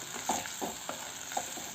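Garlic pickle sizzles and crackles in a pan as vinegar is stirred in, with soft, rhythmic stirring scrapes over a steady frying hiss.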